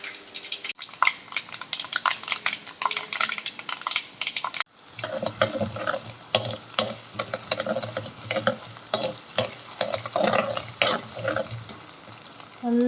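Curry leaves, garlic and ginger sauté in hot oil for a fish curry. A steady sizzle is broken by repeated scraping and clinking as a utensil stirs the pan, close and clear with no talk.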